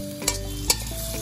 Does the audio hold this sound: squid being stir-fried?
yes